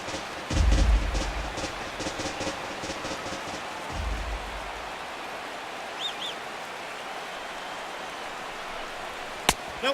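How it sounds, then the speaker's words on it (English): Steady, heavy rain hisses across a ballpark in MLB 17 The Show, a broadband wash that holds throughout, with a couple of low rumbles near the start and a sharp crack near the end. "This has got to be the hardest rain we've seen all afternoon."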